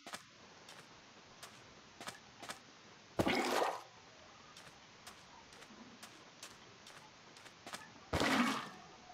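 Water flows and splashes in the Minecraft ATM6 modpack, two short gushing bursts standing out over a faint, steady background with regular sharp clicking sounds throughout.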